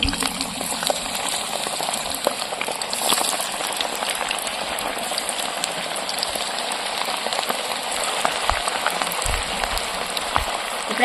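Sorakaya garelu, bottle gourd vadas, sizzling in hot oil as rain falls, a steady dense crackle and bubbling hiss running evenly throughout with no voices.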